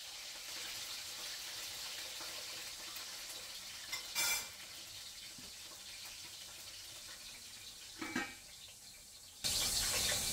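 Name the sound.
potatoes frying for mutton curry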